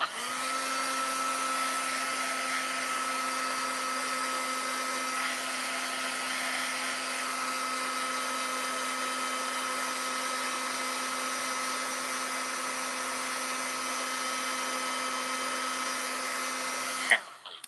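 Heat tool for embossing blowing hot air in a steady, unbroken whirring hiss at close range, running alone for about seventeen seconds before cutting off abruptly.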